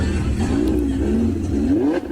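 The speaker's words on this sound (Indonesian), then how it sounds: "mobil itu suka aku dengar suaranya" A car engine revs loudly and close by, its pitch rising and falling in smooth waves as the throttle is worked, continuous for the whole stretch.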